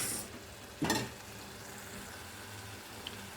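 Tomato curry with chili powder simmers and sizzles in a pan, a soft steady frying hiss with a brief louder stir or splash near the start and a small pop later.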